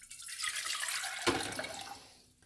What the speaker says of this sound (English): So I'm just going to add 2 cups of water.